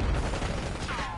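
Short burst of gunfire in the Call of Duty Black Ops 6 beta, a dense rattle of shots at moderate level with a whooshing effect near the end, under faint game chatter.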